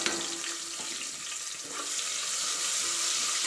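Sliced onions with a little turmeric fry in a pan as the base for a village-style mushroom biryani, making a continuous close crackling sizzle with a watery, hissing texture, steady throughout.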